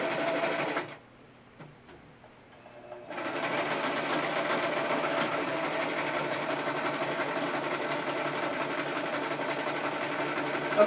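A sewing machine stitches through layered fabric in a fast, even mechanical rattle, pausing briefly near the start before running on steadily at close range.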